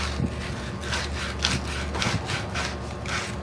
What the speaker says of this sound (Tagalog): So lilihain natin.